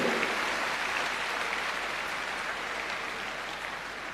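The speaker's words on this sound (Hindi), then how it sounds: "इन बच्चों के लिए जोरदार तालियां बजाते रहिए" Applause from a crowd cheering students at a government school achievement event, a faint, steady wash of clapping that holds evenly throughout.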